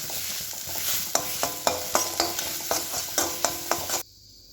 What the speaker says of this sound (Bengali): এবার এটা নাড়তে থাকবো যাতে শুকনো শুকনো হয়ে যায়।